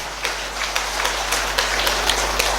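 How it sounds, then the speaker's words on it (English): Audience applause at a public talk, a steady wash of many hands clapping with scattered sharper claps, fairly close and filling the whole moment without voices. "Give them an applause."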